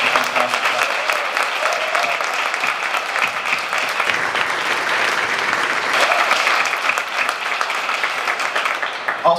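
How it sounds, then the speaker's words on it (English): An audience at a press conference gives Elizabeth a big round of applause: full, sustained clapping from many people, loud and close, continuing without pause from start to finish. "we need to give Elizabeth a big round of applause"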